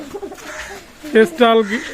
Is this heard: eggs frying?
no